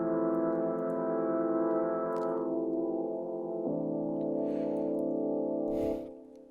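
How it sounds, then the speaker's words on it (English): A sustained synth pad from an Afro house track made in FL Studio holds smooth layered chords, changing once midway and fading out near the end, heard alone without talk. "And so let's get back into the pad. It sounds like this basically."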